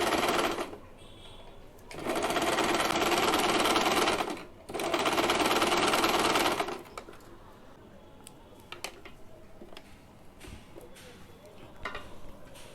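A sewing machine stitches a small cotton summer dress for a Laddu Gopal figure in two close, loud bursts of a couple of seconds each. Quieter handling clicks and rustles of the fabric follow.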